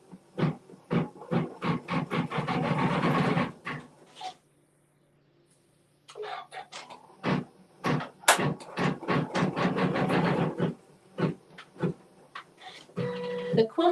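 Sewing machine stitching a long triple run line of quilting on a bucket bag, a fast, dense mechanical chatter in bursts, with a pause mid-way before the stitching resumes, close and steady.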